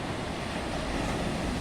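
Stormy sea waves surge and break along the shore at Sochi, a loud, continuous roar of surf mixed with wind buffeting, with no speech.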